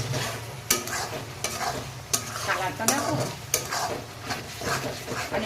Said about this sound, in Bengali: এটাকে এখন ভালোভাবে নেড়ে চেড়ে এটাকে ভালোভাবে আর একটু ভাজবো লাল লাল করে